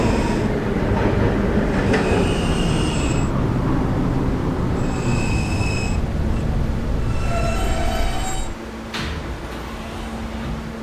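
An R160A subway train on the K line runs steadily along the track, a loud continuous rumble with squeals and clatter from the rails, softening slightly near the end.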